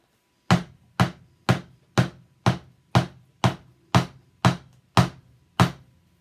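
Ten sharp, hard knocks at a steady, even pace, like a glass jar being banged against a table edge, close and loud with no talking.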